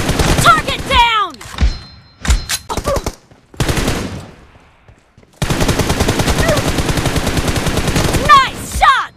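Gunfire in the mobile shooter game PUBG Mobile: loud single shots, then a long sustained burst of rapid automatic fire, with game sound effects and brief gaps between volleys.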